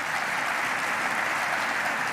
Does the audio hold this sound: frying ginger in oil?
no